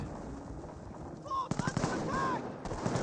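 Gunfire cracks around an anti-tank gun in Company of Heroes, a cluster of quick sharp shots over steady battlefield ambience, with short whistling tones mixed in.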